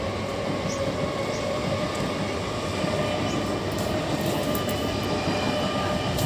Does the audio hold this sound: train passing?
yes